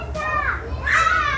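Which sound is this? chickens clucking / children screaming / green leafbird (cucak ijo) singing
children screaming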